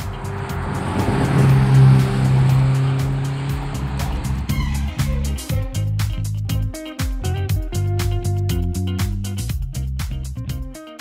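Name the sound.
car driving on racetrack at Atlantic Motorsports Park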